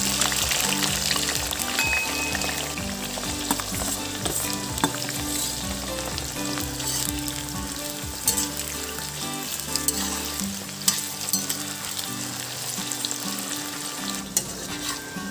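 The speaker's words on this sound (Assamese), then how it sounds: "এতিয়া মই তেলত দিছোঁ তেজপাত, তাৰ পাছতে দিছোঁ পিঁয়াজ," Bay leaf and chopped onions frying in hot oil for mutton curry, a loud continuous sizzle up close with frequent stirring scrapes and occasional clinks of a utensil against the pan.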